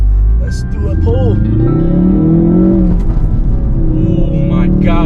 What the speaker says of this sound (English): let me show you guys, but I'm not doing a launch control, but yeah, let's do a pull.